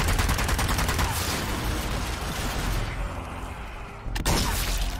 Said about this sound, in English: I'm shooting all the zombies. I'm throwing grenades.